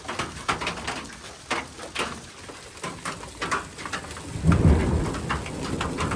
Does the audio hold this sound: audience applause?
no